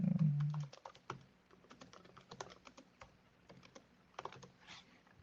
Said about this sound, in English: I'll just type it.